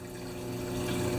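Return pump in a newly set up reef aquarium pushing water back from the return chamber, a steady, continuous rushing wash with no talk over it.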